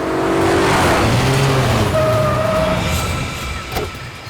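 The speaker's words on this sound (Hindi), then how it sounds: "गाड़ी मत रोकना, तेज चला गाड़ी, तेज चला।" A car roars along at speed, its engine loud and close with rising and falling tones, easing slightly toward the end.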